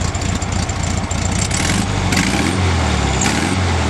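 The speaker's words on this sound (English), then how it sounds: "Let me rev it up for you." A 1971 Volkswagen Beetle engine revs up from idle nearby, its pitch climbing and holding in a loud, steady roar with no voices.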